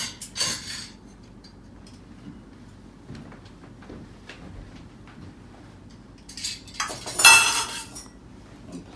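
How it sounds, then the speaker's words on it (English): A fork and knife are set down on a dressed table, giving a soft clink near the start and a brighter, louder metallic clatter toward the end, with quiet room tone in between. "Placing my fork and knife in the center."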